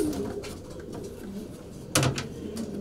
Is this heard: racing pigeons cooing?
yes